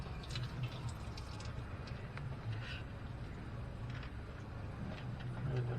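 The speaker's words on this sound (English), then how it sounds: "Too much coolant coming out." Engine coolant pours from a disconnected hose on a 2013 Ford F-150 with a 5.0 Coyote V8, a steady, faint trickling and splashing stream that runs continuously without talk.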